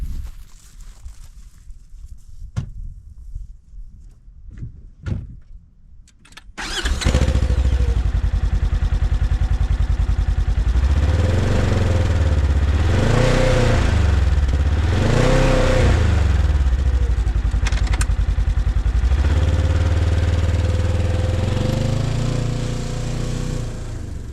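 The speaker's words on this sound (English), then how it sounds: "Here's how the Ranger XP1000 sounds." After a few seconds of quiet clicks, a Polaris Ranger XP1000 Crew Northstar side-by-side engine cranks and roars to life on a driveway, then idles loudly with several brief revs.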